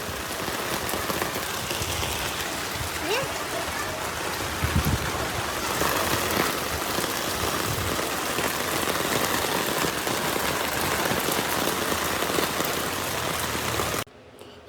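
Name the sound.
heavy rain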